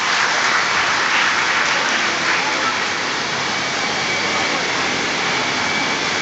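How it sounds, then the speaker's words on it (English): Loud, sustained applause from a large crowd at a medical college graduation ceremony, a dense roar of clapping that holds steady throughout. "I think yours is the biggest applause."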